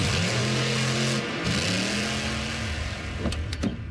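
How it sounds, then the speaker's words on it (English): A monster truck engine at a rally revs and holds a steady drone, then drops off, followed by a few sharp mechanical clicks near the end. "You can even stream it at a monster truck rally."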